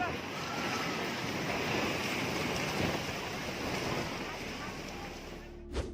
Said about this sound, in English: you can see waves rushing back into the city